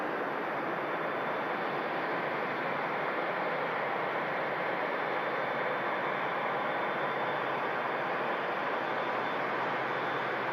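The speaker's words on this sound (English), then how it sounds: "And that's A380 heading out to Dubai, of course." An Airbus A380 jet departing Manchester Airport for Dubai gives a steady, broad engine roar that stays constant and distant-sounding throughout, with no talking.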